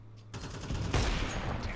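Bursts of rapid gunfire ring out in Counter-Strike 2 during a pre-fire, loud and dense after a short quiet start, one heavier shot near the middle.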